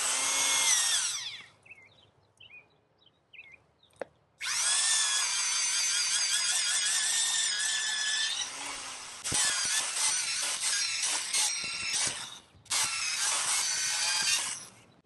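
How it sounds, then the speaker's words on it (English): An antique power drill, run from a portable power station, whines loudly as it bores into a wood stump, starting briefly, pausing, then running in long straining bursts with short stops between. "So I'll get a shot of drilling a hole"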